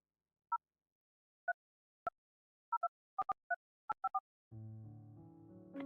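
A phone call dialed to a number: a series of short DTMF keypad beeps in irregular rhythm, followed by a steady dial tone that holds to the end, clear and alone.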